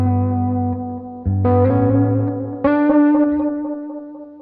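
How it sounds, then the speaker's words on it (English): Electric guitar through a Blue Echo delay effect, sustained chords struck three times with bright, ringing repeats trailing off between strums, loud and alone without any talk. "let's bring in this blue echo"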